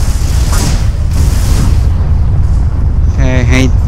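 Ship weapons fire in the Everspace space combat as a dense, continuous rumbling barrage of booms and blasts, loud and close, with a short rising tonal alert chirping near the end.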